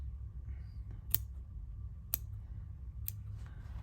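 Scissors snip embroidery thread three times, each cut a crisp, close click about a second apart, over a quiet low room hum.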